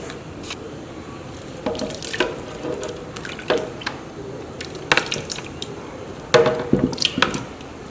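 Tap water runs into a kitchen sink while food is rinsed under it, with splashes and irregular bursts of flow.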